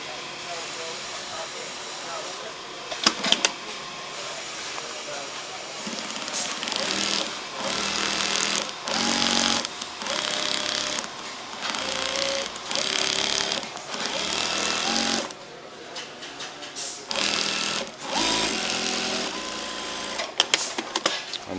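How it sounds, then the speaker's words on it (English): A sewing machine hems the left panel of a patient gown in a garment production workshop, giving a close, steady mechanical whir that runs in long bursts with brief pauses between seams. "And that's hemming the left panel."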